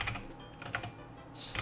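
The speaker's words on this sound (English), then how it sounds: "So I'm going to type" Someone types on a computer keyboard, a close run of quick, uneven key clicks with brief pauses and a louder burst at the end.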